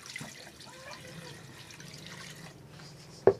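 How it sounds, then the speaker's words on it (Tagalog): Water poured into a cooking pot holding pork for tokwa't baboy, a steady soft splashing stream with a sharp clank near the end. "At syempre, lalagay na natin ng tubig."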